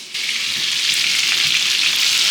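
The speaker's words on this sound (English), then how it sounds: "When frying the meat, I increase the temperature to 12 or 14, quite high heat." Steady, loud sizzling of meat for Texas chili frying in a pan over high heat, browning, a dense crackling hiss that holds throughout.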